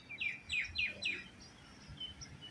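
Four quick high chirps from small birds in a row, followed by fainter scattered tweets against a quiet background.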